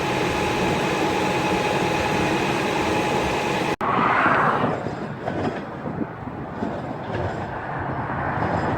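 A subway train at a station fills the scene with steady loud rumbling and rail noise, then a brief dropout followed by a hissing, shifting roar as the train moves through the platform area.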